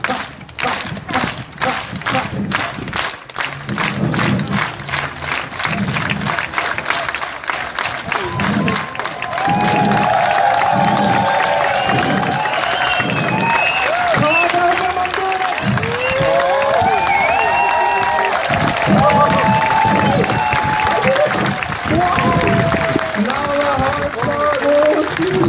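A crowd at a unicycle show in Namur claps in a slow, steady rhythm, with sharp, evenly spaced claps that give way to louder, denser applause and cheering, while a voice talks over it.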